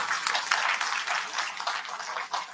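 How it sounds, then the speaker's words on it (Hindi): A congregation claps at a feast mass for St. Anthony, a burst of dense, lively applause from many hands, close and steady, easing slightly near the end. "तालियां बजाओ"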